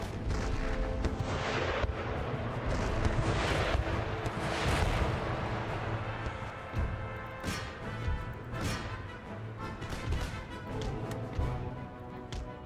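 Cannon fire from massed artillery in the Empire Total War battle game, a dense, continuous roar of overlapping booms and crashes with heavier blasts early, loud and sustained throughout.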